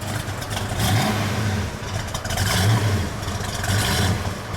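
A 1970 Ford Mustang Boss 302 V8 with a loping cam is revved close up, its exhaust note rising and falling in two throaty surges over a lumpy, rumbling idle.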